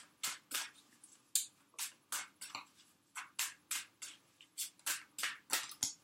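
A deck of cards is shuffled in a quiet room, a rapid series of soft, crisp riffles and taps repeating in an irregular rhythm, close up and alone.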